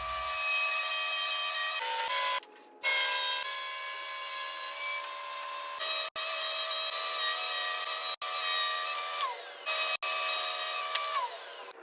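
Walnut and maple strips are ripped on a saw, a loud steady high whine with cuts broken by short gaps as each strip finishes, no voices.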